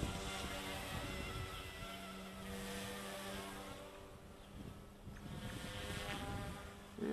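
An E150 RC helicopter flies on a windy day, its rotor whine holding a steady buzzing tone that shifts slightly in pitch as the tail rotor responds, with wind rumble on the microphone throughout.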